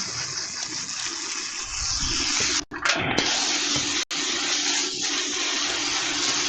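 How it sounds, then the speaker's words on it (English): A diaper hose sprayer gushes water loudly and up close, the hissing spray shifting in tone as it hits a surface, with two short interruptions when the trigger is released and squeezed again. "Hit it with the water real quick."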